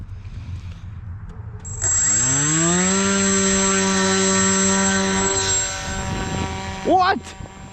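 An RC combat wing cut from pink insulation foam spools up its electric motor into a loud, steady whine that holds while flying, then wavers and shifts in pitch near the end.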